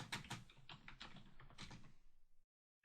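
Computer keyboard typing in short bursts of quick clicks, fairly quiet and close, then stopping into silence near the end.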